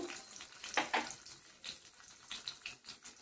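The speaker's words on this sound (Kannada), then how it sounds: "ಇವಾಗ ಸ್ವಲ್ಪ 1 ಸ್ಪೂನ್ ಅಷ್ಟು ಜೀರಿಗೆ ಹಾಕೊಂತ ಇದ್ದೀನಿ." Cumin seeds sizzling in hot oil in a pan while making moringa leaf chutney, a faint crackling fry with scattered pops and brief stirring sounds.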